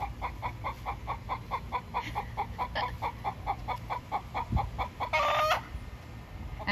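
After laying, a hen gives her egg song: a long steady series of close, repeated clucks building to a loud stretched-out squawk near the end, with a low rumble underneath.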